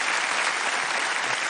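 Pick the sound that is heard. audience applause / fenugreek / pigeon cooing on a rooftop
audience applause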